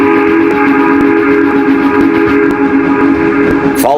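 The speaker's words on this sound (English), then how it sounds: "Then he heard a whistle that was not familiar to him" A loud, sustained steam train whistle sounds close by, with a steady chord held throughout and a sharp change in pitch at the very end.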